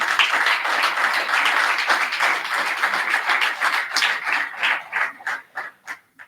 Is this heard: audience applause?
yes